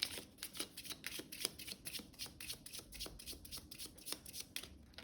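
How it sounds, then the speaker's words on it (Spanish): A mixed deck of terror cards for the Final Girl board game being shuffled by hand, a rapid run of crisp riffling flutters and card slaps repeating steadily, close and fairly loud, with no talking. "Lo vamos a barajar."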